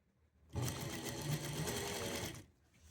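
Sewing machine stitching piping onto a blouse, a single close, steady burst of rapid mechanical chatter lasting about two seconds before stopping.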